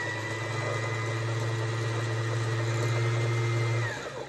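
A sewing machine with a front-loading bobbin winding thread, a steady motorized whir running evenly for about four seconds before slowing and stopping.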